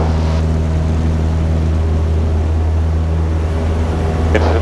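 Cessna Skyhawk propeller plane on its takeoff roll, heard from inside the cabin. A loud, steady engine and propeller drone holds constant throughout, with a brief click near the end.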